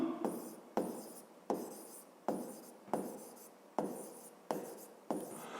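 Pen strokes on a notebook page come close and faint in a regular series of about eight scratchy bursts, each starting sharply and trailing off before the next.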